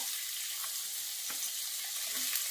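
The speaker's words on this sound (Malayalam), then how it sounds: "അതിലേക്ക് ചൂടായ എണ്ണയിലേക്ക് നമുക്ക് ഇഞ്ചി അരിഞ്ഞത് ചേർത്ത് കൊടുക്കാം" Chopped ginger frying in hot oil for a fish curry, a soft, steady sizzle with a few faint crackles and pops, heard alone and fairly quiet.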